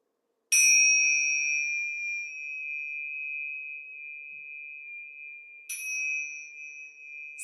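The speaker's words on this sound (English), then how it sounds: "and then we'll finish with the Tibetan bells." Tibetan bells struck twice during an energy-clearing ceremony, each a bright, clean metallic ding whose pure tone rings on and slowly decays, the second strike coming about five seconds after the first, alone in a quiet room.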